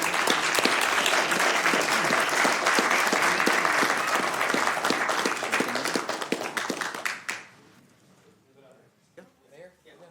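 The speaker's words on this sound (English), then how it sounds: "So please join me in giving them a round of applause." Audience applause fills a city council chamber, loud sustained clapping from many people that fades out after about seven seconds, followed by quiet room sound and a few faint voices.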